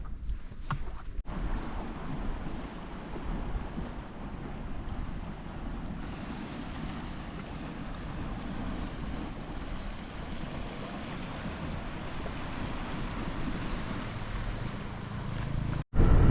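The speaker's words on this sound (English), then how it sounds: "This is the beach of Calabardina." Waves wash onto the beach at Calabardina, Spain, in a steady continuous surf hiss mixed with gusty wind buffeting the microphone, ending with a sharp bump.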